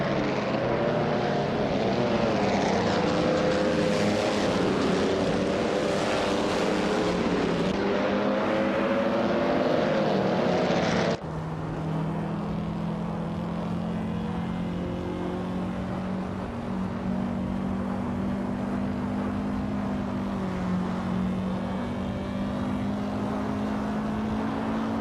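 A 1958 Lotus 16 race car engine in a racing game drones steadily at high revs, with a sudden drop in pitch partway through as it shifts, then holds a lower steady whine.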